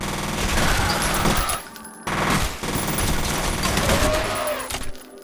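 Rapid automatic gunfire from the F.E.A.R. video game sprays in long continuous bursts with a brief break in the middle, loud and dense over the background.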